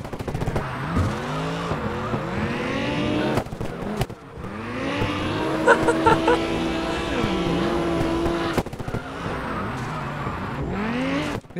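Tires squeal continuously as an Audi drifts in the CarX Drift Racing Online video game, the engine revving and whining loudly throughout with brief cuts between runs.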